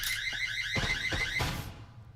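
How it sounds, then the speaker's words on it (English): A proximity alarm in the Breachers VR shooter sounds a steady, loud electronic tone with warbling pulses, continuous throughout with some thumps of gameplay underneath, then cutting off near the end. "taking out that proximity alarm"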